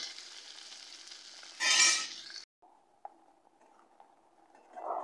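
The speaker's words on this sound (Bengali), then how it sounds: "পেঁয়াজটাকে একটু ভেজে নিতে হবে" Onions frying in a pan while being stirred, a soft sizzle with a louder burst of scraping and stirring midway, then quieter sizzling with a few small clinks.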